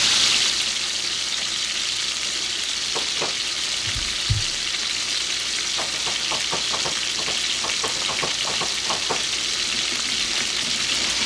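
Backstrap pieces sizzle steadily in a pan, a continuous close frying hiss with scattered crackles and a brief clunk partway through.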